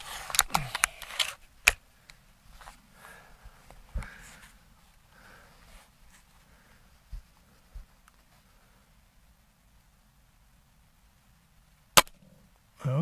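Gamo Swarm Magnum Gen 3i air rifle fired during scope sight-in, a few sharp cracks spread across the stretch with quiet gaps between them, the loudest near the start and end.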